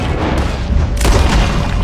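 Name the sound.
gunshots in video game Red Dead Redemption 2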